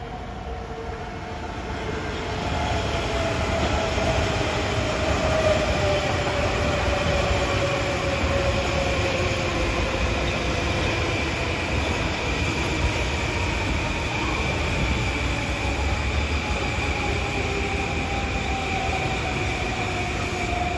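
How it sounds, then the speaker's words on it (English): A Long Island Rail Road M9 electric train pulls into Westbury station, a loud, sustained rumble of wheels and motors rising after a couple of seconds, with long tonal whines and faint wheel squeal drifting in pitch. "arriving as train 1566, Penn Station to Huntington with M9s"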